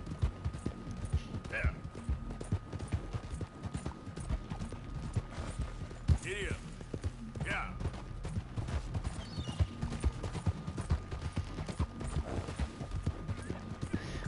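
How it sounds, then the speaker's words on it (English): Hooves clip-clop in a steady rhythm as a horse walks in Red Dead Redemption 2, with several short neighs and whinnies breaking through, while someone talks over the gameplay. "This horse don't want to be tamed."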